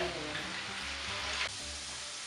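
Sweet potato pieces fry in oil for a Parsi lagan nu stew, making a close, even sizzle with faint stirring bumps underneath, steady from start to finish.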